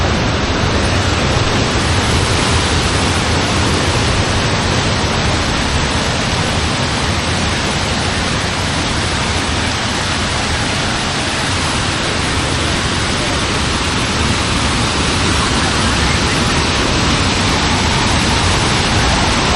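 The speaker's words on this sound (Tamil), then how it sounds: "போக போக வாட்டர் ஃப்ளோ அதிகமாக தாங்க இருக்குது" A waterfall near Chennai roars as a loud, steady, broadband rush of falling and flowing water, continuous and close throughout.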